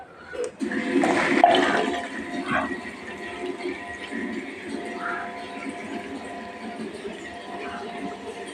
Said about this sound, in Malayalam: ഇങ്ങനെ വെള്ളം വരുന്നുണ്ട്.